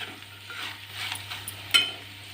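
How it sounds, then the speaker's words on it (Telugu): Turmeric is stirred into a dried prawn curry in a pan, giving soft scraping and a low simmering sizzle close by, with one sharper clink of a utensil near the end. "పసుపు వేసుకున్నా ఒకసారి వేసుకుని తిప్పేసుకున్నాం"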